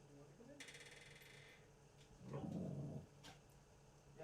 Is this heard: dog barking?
yes